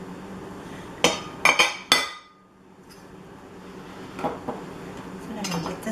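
Chopped onion and poblano pepper drop into a foil-lined pan, giving a few sharp clattering hits close by, then a quieter stretch of faint handling noises and light taps.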